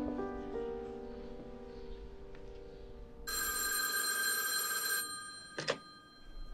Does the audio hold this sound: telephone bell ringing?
yes